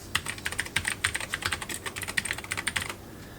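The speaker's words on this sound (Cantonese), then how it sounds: "佢嘅特點就係佢有一種清脆嘅聲音同埋一個明顯嘅段落感" Rapid typing on a mechanical keyboard with clicky blue switches of the Cherry MX type, a close, crisp burst of tactile clacks in an uneven rhythm that stops near the end.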